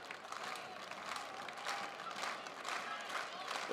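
Fans along the first base line at a high school state baseball tournament game give a slow, rhythmic clap, rising and falling amid broad crowd noise heard from a distance and fairly faint.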